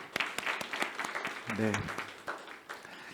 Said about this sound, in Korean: 우리 찬양팀도 격려의 박수 한번 할까요?